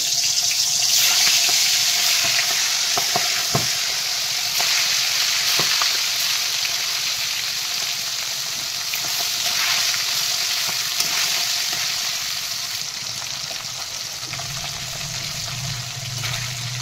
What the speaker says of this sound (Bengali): এই তেল গরম হয়ে গেছে, আমি এই শিঙি মাছগুলো দিয়ে দেবো, অল্প ভাজবো